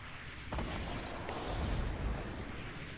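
Rocket launcher explosions in the video game Fortnite come as a distant, muffled rumble with a soft thump early on and rolling booms afterward, fairly faint overall.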